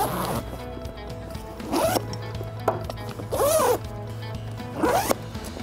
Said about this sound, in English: We service the zipper